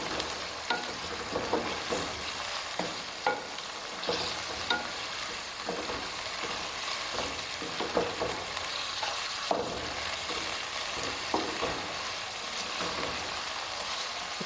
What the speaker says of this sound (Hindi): इसको फ्राई करके फिर गोश्त हमारा अच्छा सा फ्राई हो गया